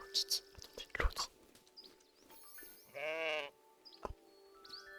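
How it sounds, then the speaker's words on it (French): Sheep bleat in a pastoral farm scene in the Tales of the Shire video game, with one clear, wavering bleat standing out mid-clip among soft game ambience and chirps, while a person speaks quietly around it. "Oh oui, on salue les moutons."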